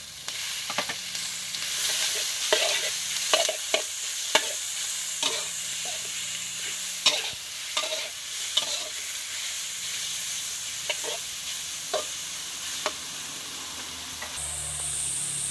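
Shallots fry in a small amount of oil with a steady, close sizzle and hiss, broken by a dozen or so sharp spatula scrapes and taps at an irregular pace over about fifteen seconds, with no voices.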